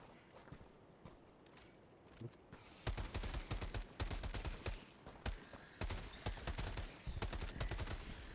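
Gunfire in a video game, rapid crackling shots and bursts that start sparse and turn into dense, loud volleys from about three seconds on, with no talking.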